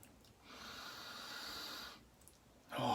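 A scented shaving soap is sniffed up close in two long, soft nasal inhalations, followed by a louder breathy sound at the end.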